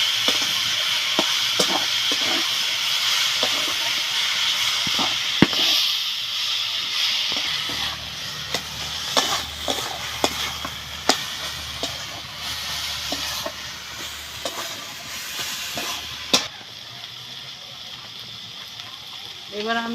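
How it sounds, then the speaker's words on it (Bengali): Banana flower curry cooking in a pan with turmeric and salt, heard as a steady sizzle with repeated sharp scrapes and clinks of a spatula stirring, plus a low rumble through the middle stretch. "ভালো করে নেড়ে চেড়ে কষে নিতে হবে।"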